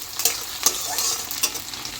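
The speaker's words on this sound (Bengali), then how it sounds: "পেঁয়াজটাকে লাল লাল করে ভেজে নেব।" Onions fry in a pan while being stirred, a close steady sizzle broken by four or five sharp scraping strokes of a spatula over two seconds.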